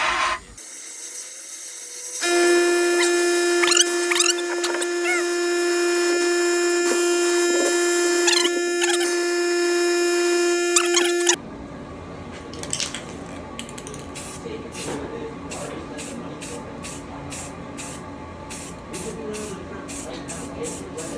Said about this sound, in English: Sandblasting montage initiate.